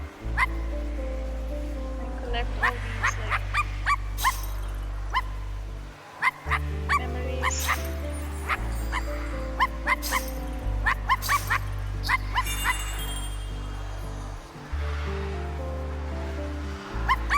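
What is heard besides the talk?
dog barking in a video game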